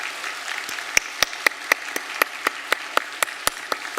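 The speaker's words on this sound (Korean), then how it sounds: "우리 귀한 두 분, 두 가정 박수로 환영하겠습니다." Sparse, slow hand claps from a small church congregation welcoming new members at a Sunday service, each clap sharp and distinct over a soft wash of murmuring.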